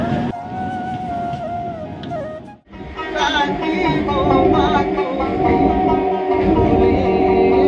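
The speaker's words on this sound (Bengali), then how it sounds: "তার পাশে দিয়ে যাচ্ছে দিল্লির রাজধানী এক্সপ্রেস।" The Rajdhani Express from Delhi runs alongside a moving local train in rural Bengal, giving a loud, close rumble of wheels and carriages with tonal squeals and shifting whines over a steady roar.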